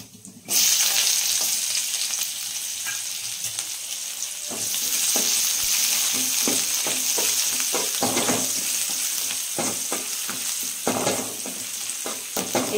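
Onions frying in oil with mustard seeds, cumin, urad dal and chana dal for a coconut chutney, a loud continuous sizzle with crackling pops and occasional stirring scrapes, close and without voices.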